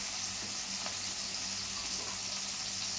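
Tomatoes cook in a pan with a soft, continuous hiss of sizzling that holds steady throughout. The sound is faint but even, alone, with no talking.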